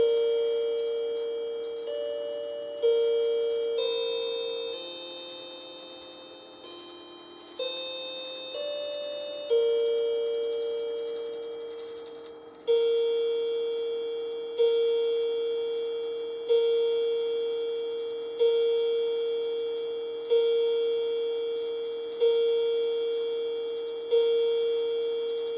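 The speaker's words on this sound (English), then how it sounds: "Alright, so that was 8 chimes." A Linden Westminster chime clock plays a melodic tune on its chime rods, then strikes the hour with eight resonant, evenly spaced bell tones, each ringing out and decaying before the next, close and clear with no talking.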